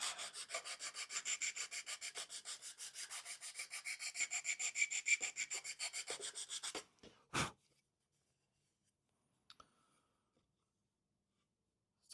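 Scrap wood being sanded by hand in a steady back-and-forth rhythm of rasping strokes for about seven seconds, close and even, then stopping, followed by a knock and near silence with a few faint taps.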